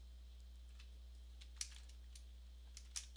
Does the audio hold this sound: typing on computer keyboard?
yes